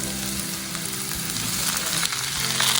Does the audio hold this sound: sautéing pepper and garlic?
yes